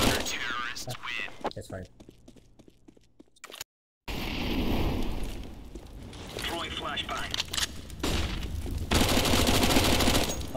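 Gunfire in a multiplayer video game, with bursts of rapid shots and sharp cracks, including a harsh louder stretch near the end, heard under people talking over voice chat.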